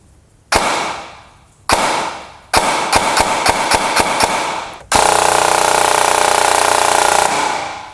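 An airsoft gun with an NT Blackbird brushless motor and SSG 18:1 short-stroke gearing fires close and loud: two single shots, a quick string of semi-auto shots, then a sustained full-auto burst of about two and a half seconds.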